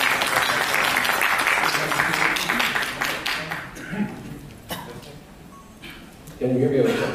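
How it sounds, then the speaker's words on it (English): Audience applause at a cancer care conference in Ludhiana, a thick wash of clapping that thins and fades after a few seconds, with a voice and hall noise carrying on beneath and a brief louder swell near the end. "Please give a huge round of applause."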